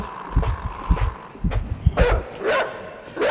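A dog barking in a PC horror game, a quick series of close, loud barks and yelps in a short burst.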